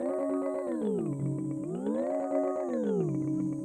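A Hologram Electronics Microcosm effect pedal sweeps a sustained harmonic tone through a triangle-shaped glide, its pitch repeatedly ramping down then back up in smooth waves about every second and a half, clear and alone.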